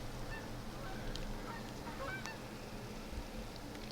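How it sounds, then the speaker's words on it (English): Canada geese honk faintly and at a distance, several scattered calls over a steady rush of wind outdoors. "Here comes some honkers."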